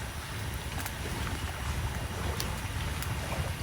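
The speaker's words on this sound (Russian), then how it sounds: "раз там в 20-30 минут проходит моторка." A motorboat engine drones steadily at a distance, a low rumble blended with wind and water noise outdoors in a forest.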